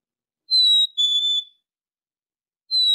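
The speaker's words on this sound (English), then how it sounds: "This is the song of a black-capped chickadee." A black-capped chickadee sings a clear, high whistled song: two pure notes in quick succession, then a pause, and the first note returns. The bird sounds close and stands alone against silence.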